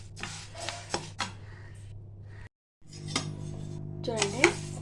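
Idli rice is fried in a pan, with repeated close metallic scrapes and clinks of a utensil moving the grains against the pan over a steady low hum, briefly cut to silence before the scraping resumes.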